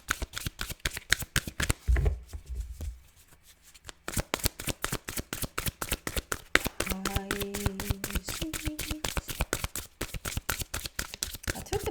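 Tarot cards are shuffled in a fast, crisp riffling rhythm of close, sharp flicks that runs nearly continuously, with a short pause and a faint voice partway through.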